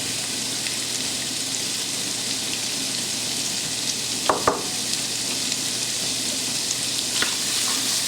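Mirepoix vegetables hit a hot pan for lobster bisque and sizzle in a steady, even hiss, with a few soft clinks and scrapes partway through and no voices.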